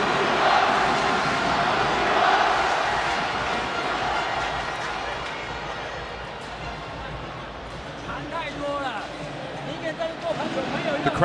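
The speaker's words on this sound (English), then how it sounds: "The crowd is raucous." Raucous crowd at a FIBA Asia Cup basketball qualifier between Lebanon and Chinese Taipei, a loud arena roar of shouting and babble that dips midway then builds again, with a commentator talking over it.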